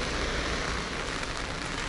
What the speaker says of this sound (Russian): А дождь усиливается